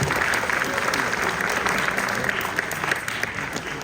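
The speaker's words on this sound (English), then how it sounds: "Let's give the cast another round of applause." An audience at an annual Navarasa stage event applauds the skit cast, a dense, steady wash of clapping from many hands that holds evenly throughout.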